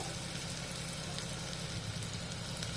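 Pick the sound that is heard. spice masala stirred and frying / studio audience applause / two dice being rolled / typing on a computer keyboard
spice masala stirred and frying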